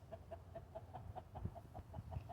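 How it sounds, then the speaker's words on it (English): Hens cluck in a backyard, a rapid run of soft repeated clucks at a faint distance, with low rustling underneath. "There's now 2 hens"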